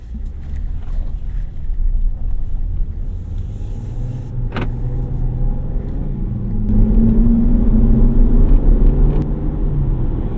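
Cabin sound of a 2026 Ram 1500 Warlock pickup with the Hurricane engine while driving: a steady low engine and road rumble that swells a little louder partway through, with no talking.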